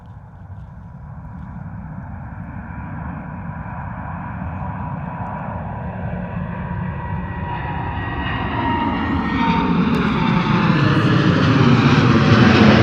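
Gulf Air Boeing 787-9 Dreamliner departing Gatwick for Bahrain, its jet roar building steadily and rising in pitch as it spools up and accelerates, growing louder and nearer throughout.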